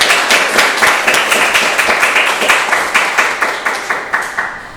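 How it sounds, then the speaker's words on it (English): Audience clapping for a writer at a reading event, steady and fairly close throughout with rhythmic individual claps standing out from the crowd, no talking. "Clap it up for Aria."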